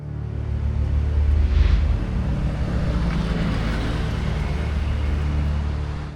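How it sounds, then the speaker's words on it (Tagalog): Steady broadband rumble of vehicles passing along Kennon Road in Benguet, a continuous low roar with a brief swell around the second mark, heard from the roadside with some wind buffeting the microphone. "maririnig mo ang ingay ng mga dumadaang sasakyan"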